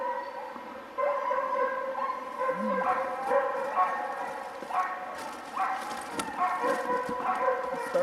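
Several sled dogs at a race checkpoint barking and yipping excitedly, overlapping and continuous, with some whining mixed in and a person speaking over them.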